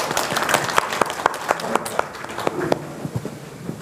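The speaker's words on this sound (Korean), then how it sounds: "큰 박수 부탁드립니다." An audience applauding as the mayor of Hwaseong enters a press conference, with brisk, fairly loud clapping from a small crowd that stays dense before thinning out toward the end.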